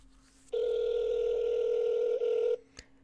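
A steady telephone tone sounds during a scam-baiting call, holding for about two seconds before cutting off, followed by a faint click, with no talking over it.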